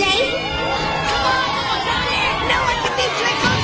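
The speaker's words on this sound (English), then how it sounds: "Unlike all your screaming fans up there in the stands" A large animated arena crowd of fans screams and cheers continuously from the stands, a loud dense roar with shouting voices mixed throughout.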